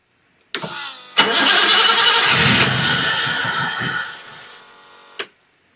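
1980 BMW 528i E12 engine cranking briefly, catching and running loud and close for about four seconds before shutting off abruptly.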